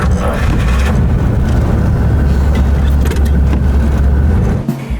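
A 1941 Cadillac Fleetwood 60 Special driving, its engine a loud, steady low rumble with constant road and cabin noise and no talk.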